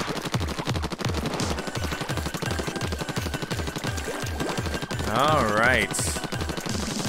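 A rapid-firing ink gun in Splatoon 2 keeps up a steady stream of evenly spaced shots throughout, with a brief spoken remark near the end over a rising game sound effect.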